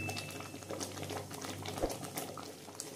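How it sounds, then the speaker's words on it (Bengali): Thick ripe mango pulp for aamsotto boils in a pan, a faint, soft bubbling and popping with a low steady background hum. "আর কিছুক্ষণ ফুটিয়ে নিয়ে তারপর নামিয়ে নেব"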